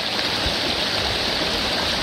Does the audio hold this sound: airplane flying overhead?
no